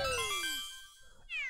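Cat Bowser from Super Mario Maker 2 lets out a loud, drawn-out synthesized meow with a falling pitch, followed by a brief rising game chime, with no talking over it.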